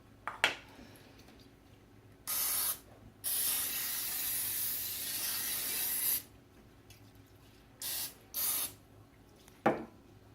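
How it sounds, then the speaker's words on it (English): Several hissing bursts of a cooking oil spray can coating a pan for brownies, one short, one long and steady, then two brief puffs, with light clicks between, close by. "so I need to spray the pan so the brownies won't stick to it."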